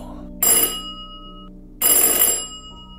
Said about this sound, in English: helplessly listening to the ringing of the doorbell.